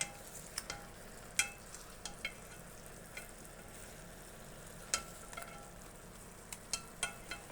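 Quiet frying of chicken in a pot over low heat, a soft steady sizzle broken by scattered sharp pops and crackles, with no talking.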